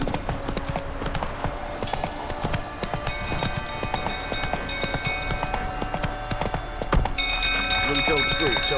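Roach, Geralt's horse in The Witcher 3, clops along in quick repeated hoofbeats at close range, joined by game music, chimes and spoken voices that talk over the steady rhythm.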